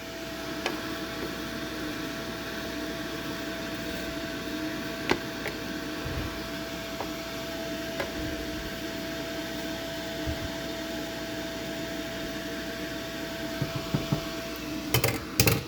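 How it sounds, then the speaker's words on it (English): A PicoBrew Z1 brewing machine running a mash stir for a saison, a steady low whirring hum with a faint tone, interrupted by occasional clicks and a cluster of sharper knocks near the end. "That is a mash stir."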